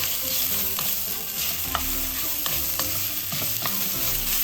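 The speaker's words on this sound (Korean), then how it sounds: "맛살을 넣겠습니다. 그래서 이렇게 한 중불로 해서 볶아주시면 됩니다" Crab sticks stir-fry in a little cooking oil over medium heat, a steady hiss of sizzling laced with soft scraping and tapping from the stirring, close by and unaccompanied by speech.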